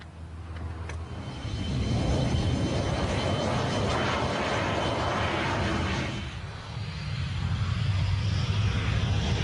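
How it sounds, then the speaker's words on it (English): A MiG-15 jet fighter on its takeoff run, with F-86 chase planes nearby, gives a loud, sustained engine roar that swells, dips briefly, then builds again. "On takeoff, the MiG easily outdistanced its two F-86 chase planes"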